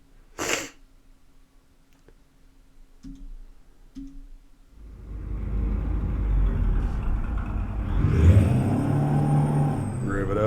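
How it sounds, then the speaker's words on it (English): A truck engine in American Truck Simulator starts after a few faint clicks and a brief sneeze-like burst. It then settles into a steady rumble and revs up louder toward the end. "Rev it up, that'll work."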